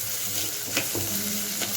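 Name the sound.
onions sautéing in a pan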